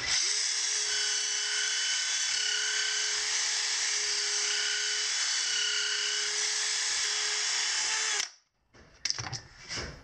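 A wooden dowel for a small sailboat's boom spins in a drill against sandpaper clamped around it, producing a steady high whine with a sustained tone for about eight seconds before it cuts off, followed by brief handling noises.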